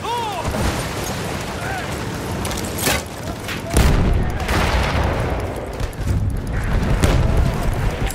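A Lewis gun fires in a video game battle on the Volga river, rapid bursts crackling over a thick wall of distant explosions and battlefield gunfire, with voices shouting among the din.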